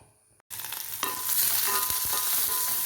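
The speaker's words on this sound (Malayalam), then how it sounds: "ഞാൻ ഒരു ചട്ടി അടുപ്പത്ത് വെച്ച് അതിനകത്ത് എണ്ണ, കടുക്, ഉലുവ, വെളുത്തുള്ളി, ചുമന്നുള്ളി, കറിവേപ്പില, കുരുമുളക്" Mustard seeds, fenugreek, garlic, shallots, curry leaves and pepper hit hot oil in a pan and burst into loud, close sizzling that swells and stays steady after a quiet start, with a few stirring clinks and no voices.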